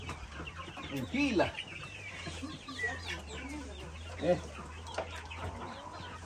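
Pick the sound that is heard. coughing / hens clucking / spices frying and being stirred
hens clucking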